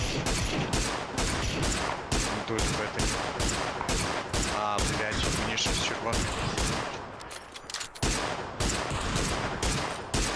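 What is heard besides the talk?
gunfire shooting at armored vehicle in PUBG video game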